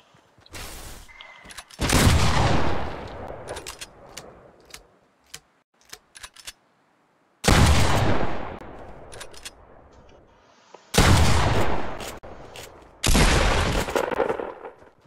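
Gunfire in the video game Fortnite comes in four loud, separate bursts of rapid shots, each lasting a second or two, with quieter pauses and scattered clicks in between.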